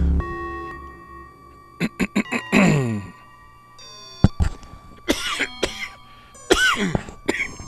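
A person in a quiet room coughs and clears the throat in several sharp, close bursts, some in quick clusters, amid faint electronic tones and pings.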